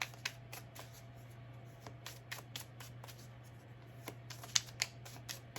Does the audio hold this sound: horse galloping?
no